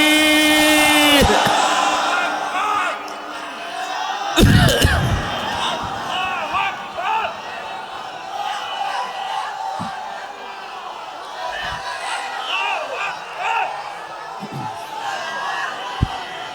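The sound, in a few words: crowd chanting Allahu Akbar in response to a takbir call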